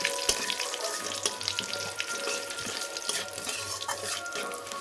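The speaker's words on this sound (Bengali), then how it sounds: "আদা, শুকনো লঙ্কা, কাঁচা লঙ্কা সব ভাজা হয়ে গেছে" Ginger, green and dried chilies, mustard seeds and cumin fry in hot oil, giving a continuous soft sizzle with stirring and occasional clinks of a spoon against the pan.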